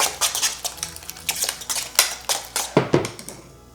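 Metal fork tapping and scraping against a dish while mixing a soupy batter for French pastry, a quick irregular series of close, bright clinks that fade into quiet at the end.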